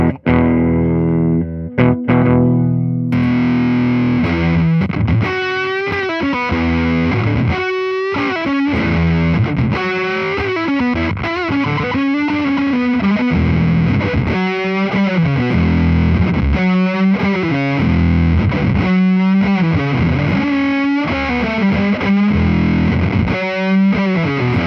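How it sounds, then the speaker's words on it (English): An electric guitar on its bridge pickup plays a loud riff through an Electro-Harmonix Op Amp Muff fuzz into a Supro amp, thick distorted chords and single notes ringing continuously with no talk. "we're going to switch to the bridge pickup here, and we're going to hear it through my favorite fuzz."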